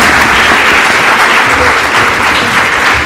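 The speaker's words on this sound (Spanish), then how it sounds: "Damos un aplauso, por favor, al doctor." A crowd claps loudly and continuously, a dense wash of applause with no voices on top.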